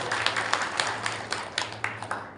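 Audience claps at a political speech in a Marathi-speaking gathering, a steady patter of scattered hand claps with sharper individual claps poking through, moderately distant and fairly light.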